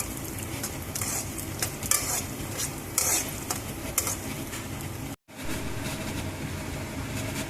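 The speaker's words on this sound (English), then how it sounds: "Now add both the dals. And keep stirring it in low flame." Two kinds of dal fry over a low flame in a pan with spluttered mustard seeds, a steady close sizzle broken by repeated scraping stirs, with a brief cut near the end.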